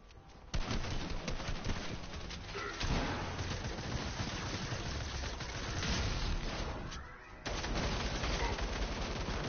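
Video game machine gun fire: dense bursts of rapid automatic shots crackling close and loud, with short pauses between volleys.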